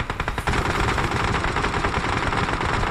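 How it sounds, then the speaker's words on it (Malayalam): Rapid automatic gunfire in the battle-royale game PUBG, loud, dense bursts of shots running almost continuously after a short opening burst, with no voices over it. "ബാക്കിൽ നിന്ന് എവിടെന്നാ വെടി? ഫ്രണ്ടിലാണോ വെടി?"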